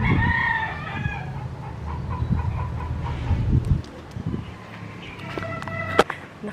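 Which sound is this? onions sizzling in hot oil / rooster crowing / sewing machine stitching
rooster crowing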